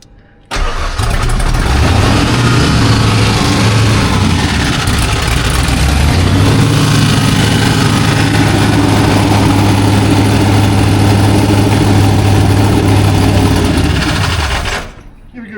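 A refuelled car engine starts and runs steadily at idle, loud and close, holding a constant drone for about fourteen seconds before cutting off.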